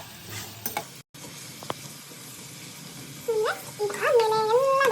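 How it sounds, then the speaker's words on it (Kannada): Onions sizzle and crackle in hot oil in a home kitchen pan for egg fried rice, with occasional stirring, fairly quiet, and a faint whining animal sound toward the end. "ಫಸ್ಟ್ ಆಯಿಲ್ ಆದ ತಕ್ಷಣ ಸ್ವಲ್ಪ ಬ್ರೌನಿಶ್ ಆಗೋ ತನಕ ಆನಿಯನ್ನ ಫ್ರೈ ಮಾಡ್ತಾ ಇರಬೇಕು."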